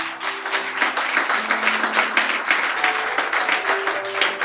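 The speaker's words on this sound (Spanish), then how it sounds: "Gracias por ese aplauso" A church congregation claps together in sustained, dense applause that fills the room steadily throughout, with a soft tonal musical hum underneath.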